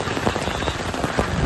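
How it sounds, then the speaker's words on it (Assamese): Heavy rain falls outdoors in a steady, dense close patter of drops drumming on surfaces, loud and continuous with no voices. "এইখানে তামাম বৰষুণ গতিকে বৰষুণত জিকি আছো"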